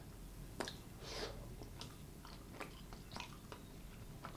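Close, quiet chewing of a keto cake cup, soft moist bites and small crunches repeating at an irregular pace with no speech.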